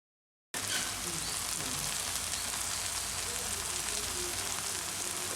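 Leeks and potatoes for a gravy cook in a pan over low heat while being stirred. After an abrupt start, a close, loud, steady sizzle continues without a break.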